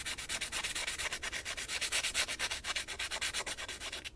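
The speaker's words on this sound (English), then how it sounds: "I'm, you know, moving the mandrel in various directions just to break all those angles" A rotary tool mandrel polishes a lock pick, producing a close, steady high-pitched sanding and rubbing with rapid pulsing strokes as the mandrel shifts direction.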